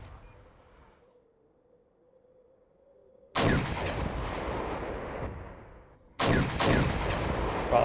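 Missile launches and gunfire from a Malyutka anti-tank weapon in the Wargame: European Escalation strategy game: a low hum gives way to a loud, sustained blast, then a second sharp burst follows, with no talking.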